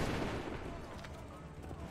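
A musket volley fired in Assassin's Creed III, a dense loud burst of overlapping shots blending into a roaring rumble, with voices faintly mixed underneath.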